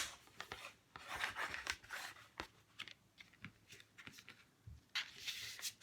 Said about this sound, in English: And now I'm gonna rub the whole surface